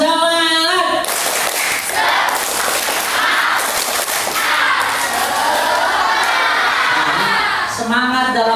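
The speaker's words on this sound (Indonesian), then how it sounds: "Tepuk semangat" A group at a Ramadhan pesantren session claps the rhythmic 'tepuk semangat' spirit clap, loud and continuous in the middle, with voices chanting or speaking at the start and end.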